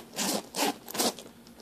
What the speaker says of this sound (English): Top zippers work good too.